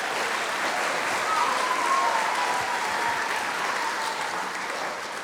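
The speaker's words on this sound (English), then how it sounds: "Let's give them a round of applause." A high school variety show audience gives a steady, enthusiastic round of applause for school choirs, dense even clapping holding at a constant level throughout, with a faint whistle briefly rising over it.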